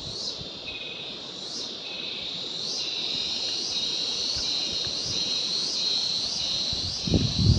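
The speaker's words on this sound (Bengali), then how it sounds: "ঝিঝি পোকার ডাক শোনা যাচ্ছে" Crickets chirp near a small creek in a steady high pulsing drone with regular repeated trills, joined by a brief rustle at the end.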